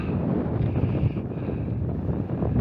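Cold wind buffets a hiker's microphone on the summit ridge of Menina planina, a loud, continuous, rough rushing roar with no voices.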